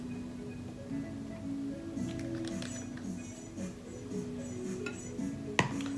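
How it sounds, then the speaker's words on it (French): Homemade lotion with lemon essential oil being stirred in a container, faint scraping and light clinks of a utensil against the vessel, intermittent and close, with one sharper tap near the end under a soft steady background hum. "Là, je le mélange dans ma recette."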